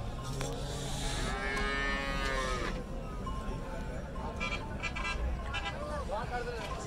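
Cholistani cattle at a busy livestock market in Jhang, with a few drawn-out moos rising over the crowd's constant chatter and background noise.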